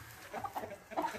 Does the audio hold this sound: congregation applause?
no